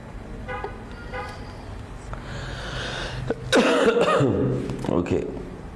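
Coughing and throat clearing from a lecturer during an online fluid mechanics class, a few harsh close bursts near the end after a quieter stretch, with faint background noise throughout.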